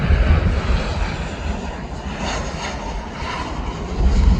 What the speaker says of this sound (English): Nah, this is the takeoff.